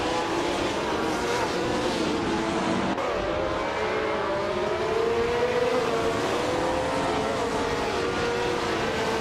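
Video game race with a vintage 1967 Brabham among the field, a steady drone of several engines at mid distance with a slowly shifting pitch under a continuous wash of noise.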